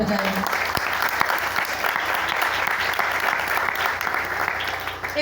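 Loud, sustained applause from a church congregation fills the whole stretch, a dense steady clapping with individual claps standing out, under a brief voice at the start.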